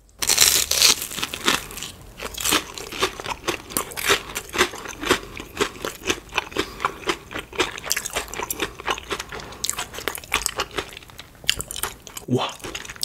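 Someone bites into and chews a cream cheese-filled Korean hot dog, close up and crisp, with repeated crunchy, crackly bites and moist chewing over about thirteen seconds; no talking.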